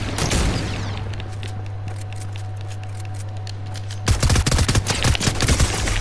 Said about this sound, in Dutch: ik word hier geschoten